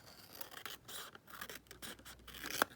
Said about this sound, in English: So let me just cut it down here across the top.